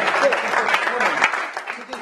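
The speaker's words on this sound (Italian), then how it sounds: "Bravo, davvero, un applauso veramente." Applause from the crowd at a football club's celebration event, a dense even patter of many hands lasting throughout, fairly close and steady, tapering slightly near the end.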